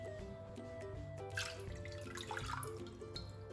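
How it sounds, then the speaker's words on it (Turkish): Lukewarm water poured into a bowl for soft cheese-filled bazlama flatbread dough, a light dripping trickle over steady background music. "2 su bardağı ılık suyumu ekledim"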